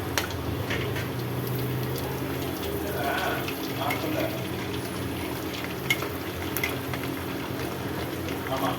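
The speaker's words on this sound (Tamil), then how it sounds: "நம்ம இதே மாதிரி எல்லாத்தையும் போட்டு வறுக்கலாம்." Sabudana vathal frying in hot oil in a kadai makes a dense, continuous bubbling hiss at moderate level, with a few scattered crackles over the steady frothy rush.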